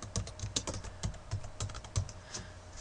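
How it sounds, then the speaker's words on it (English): Quick bursts of keystrokes on a computer keyboard while a CAPTCHA is entered, crisp close clicks in an uneven rhythm over about three seconds, with no voices. "Of course, we've got to type in the CAPTCHA."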